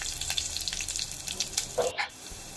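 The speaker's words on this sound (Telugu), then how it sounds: "ఫస్ట్ ఆయిల్ వేడెక్కిన తర్వాత జీలకర్ర, ఆవాలు, 5-6 వెల్లుల్లి ఇలా కొంచెం దంచి వేసుకోండి." Cumin, mustard seeds and crushed garlic crackle and sizzle in hot oil for a tempering, with sharp spattering pops over a soft hiss, close and fairly quiet.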